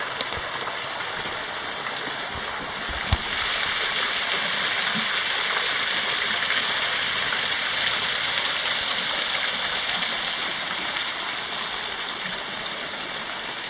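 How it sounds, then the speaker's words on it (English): A creek in the Sipsey backcountry, swollen after heavy rain, pours over a small waterfall near a campsite, producing a loud, steady, unbroken rush with no voices. "And right there, it's a little waterfall that goes over."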